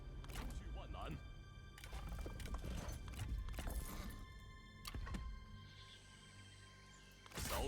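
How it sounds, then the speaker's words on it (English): Horse hooves clip-clop in a video game battle, with a brief whinny amid clanks and thuds of fighting, fairly faint under a voice. "Ah, good horse."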